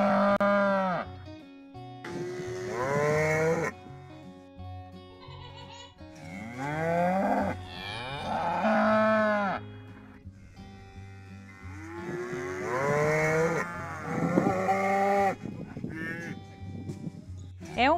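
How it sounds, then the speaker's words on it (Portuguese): A cow moos repeatedly, long drawn-out calls in three loud, close bouts separated by short quiet gaps, with a low background hum. "Vaca."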